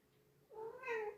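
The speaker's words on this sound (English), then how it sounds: "Oh, that's the cat." A house cat lets out a single drawn-out meow, fairly close and clear against a quiet indoor background, no one speaking.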